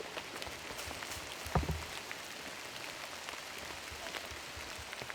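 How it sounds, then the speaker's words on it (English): Rain falling steadily on a golf course during a disc golf round, a fine continuous patter of drops with one brief louder knock partway through, even and moderately faint with no talk. "As the rain continues to intensify."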